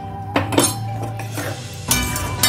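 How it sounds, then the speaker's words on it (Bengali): Eggs dropped into a pot of spiced potatoes for duck egg dopiaza give off a few close clinks and knocks against the cookware, scattered across the short clip over a low background hum. "ডিমগুলোকেও ছেড়ে দিচ্ছি।"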